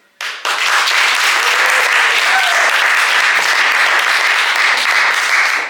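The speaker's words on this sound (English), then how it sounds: "By round of applause, the individualist party." Audience at an Improverts improv comedy show applauding to vote for the individualist party in a mock debate; after a brief silence, loud, dense, sustained clapping fills the room without letup.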